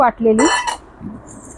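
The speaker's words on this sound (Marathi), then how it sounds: "तर आता हे या भांड्यात मी वाटलेली डाळ काढून घेतली" Utensils clink against a pot as ground lentil batter for dahi vada is scooped into a vessel, a few bright metallic knocks close by, then a quieter scrape.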